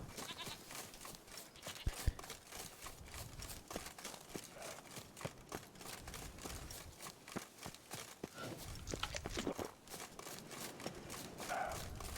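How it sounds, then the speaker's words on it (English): Goats bleat in The Witcher 3 game world, with faint repeated calls over a busy, clicky background that also carries soft footsteps, and no one speaks. "Hello, goats."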